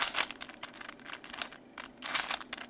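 A VCube 5 5x5 puzzle cube being turned by hand, giving bursts of quick crisp plastic clicks and crinkly rattles, close and fairly loud, with short pauses between runs of turns.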